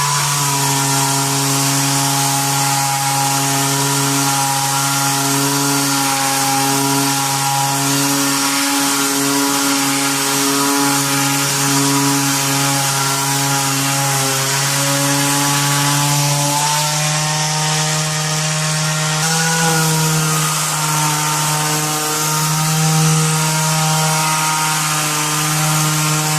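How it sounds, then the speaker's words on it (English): Fine sandpaper worked by hand smooths a patched hole in drywall, making a continuous, close rasping rub that stays loud and steady throughout, with no voices. "now it's time to make a little bit of a mess with some sanding"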